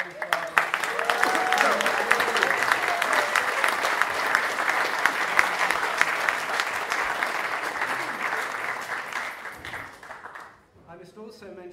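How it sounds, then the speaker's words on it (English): A festival book-event audience gives sustained applause for James Barber, a dense, even wash of clapping lasting around ten seconds before fading, with a voice speaking briefly near the start and again after it dies down. "So a huge round of applause, please, for James"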